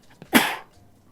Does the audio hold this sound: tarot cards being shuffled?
no